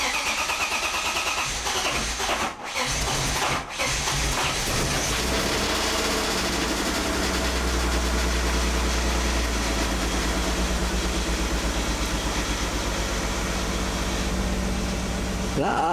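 A BMW 328i with an ignition problem cranks over for several seconds, catches and starts, then settles into a loud, steady idle close to the microphone.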